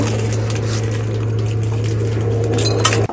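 Besan (gram flour) batter whisked briskly in a bowl, a steady close scraping and clinking of utensil against the bowl running continuously under a low hum, then stopping abruptly at the end.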